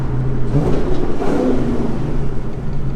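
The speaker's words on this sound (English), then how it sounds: "You have to rev it when you go underneath an overpass, it's the law." A 2004 Terminator Cobra engine revving while driving under an overpass, a loud, close, continuous roar that swells and holds steady for a few seconds.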